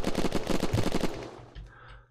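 Rapid automatic gunfire in the video game Unturned, a loud burst of repeated shots for about a second, then a few scattered thuds and a fading tail.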